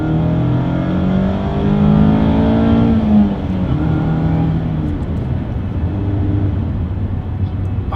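A car engine revs hard past 6,000 RPM, its loud exhaust note climbing and shifting in tone, then easing off into a steadier drone as the gears drop back.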